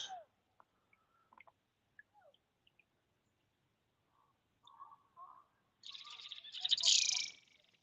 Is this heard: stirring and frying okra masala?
no